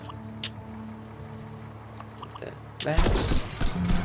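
Mounted turret gun on a salvaged vehicle firing in TerraTech, a burst of loud, dense shots arriving after a quieter stretch of low mechanical hum and a few faint clicks.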